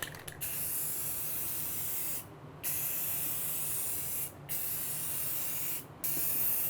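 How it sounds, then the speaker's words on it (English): A spray paint can sprays warmed paint onto an old baseboard heater in three long hissing bursts, each broken by a short pause, close and fairly quiet with no voices. "Just keep the can moving as you spray."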